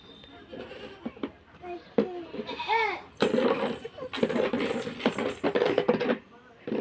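Goat bleats sound nearby amid a child's and adults' talk and some rustling.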